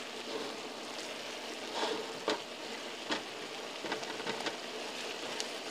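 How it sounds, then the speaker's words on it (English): Potato and mushroom mixture with Hungarian paprika is stirred in a pot: quiet continuous sizzling with scattered sharp clinks and scrapes of the spoon against the pot, close and fairly soft. "Now we stir it."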